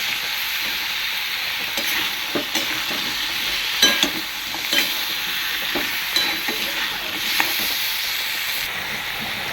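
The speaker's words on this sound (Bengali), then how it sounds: "এটাকে আমি এখন নাড়াচাড়া করে নেব মানে মশলাটা আমি কষিয়ে নেবো" Spice masala for a crab curry frying and being stirred in a pan: a loud, steady sizzle with repeated scraping and clacking spoon strokes across the pan, with no talking.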